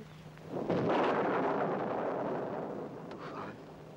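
A loud, sustained rumble of stormy thunder with wind and rain swells up after a quiet start and rolls on for several seconds in an old 1961 Hindi film scene, fading slightly toward the end with no talk.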